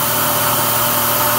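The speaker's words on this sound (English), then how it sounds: "Now we're starting our 2D adapted clearing." A CNC Bridgeport milling machine runs an adaptive clearing toolpath at about 2,500 RPM, giving a loud, constant droning whine with steady mechanical hum and no pauses or voices.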